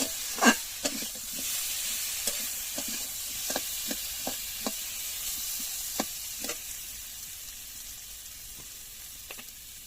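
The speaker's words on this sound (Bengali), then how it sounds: "প্রথমে আলুটা ভালো করে কষাই করে কষাই করা হচ্ছে" Potatoes with turmeric fry in hot oil, giving a close, continuous sizzle and hiss broken by scattered sharp taps and scrapes from stirring.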